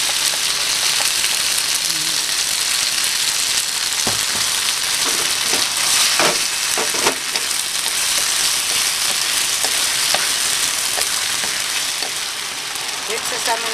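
Sweet and sour sauce sizzles loudly and steadily in a hot pan for pork, a dense continuous crackle with occasional stirring scrapes, voice talk faint beneath.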